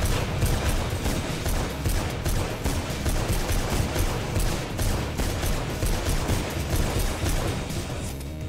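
Enemy gun firing in Mirror's Edge: a sustained, loud stream of rapid, close gunshots cracking almost without pause for several seconds.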